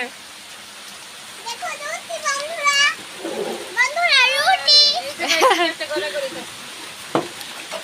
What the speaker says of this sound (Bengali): বৃষ্টিও শুরু হয়ে গেছে